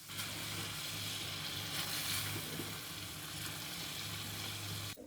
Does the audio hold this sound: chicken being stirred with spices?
yes